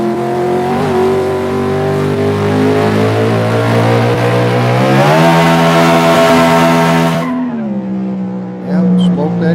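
Race car engine held at high, steady revs while the clutch is smoked, a loud buzzing drone that climbs in pitch midway, then drops abruptly to a lower idle-like note near the end.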